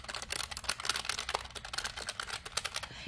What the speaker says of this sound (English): It's a clicky keyboard calculator.